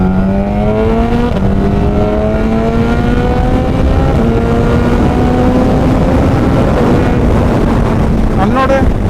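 A Suzuki Hayabusa fitted with a Brocks carbon exhaust revs hard at close range as it climbs through crisp gear shifts, with a loud rising engine note and popping bursts near the end.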